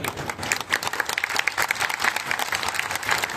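A crowd at a village fair mimicry show by comedy performers applauds loudly and steadily, dense overlapping hand claps continuing throughout without pause.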